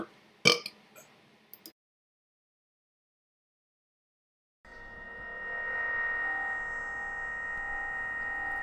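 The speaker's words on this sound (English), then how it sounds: "I got a burp." A single short, loud burp from a man close to the microphone, followed by silence and then a steady electronic tone.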